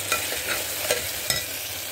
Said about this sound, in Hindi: तड़का हो गया हमारा रेडी।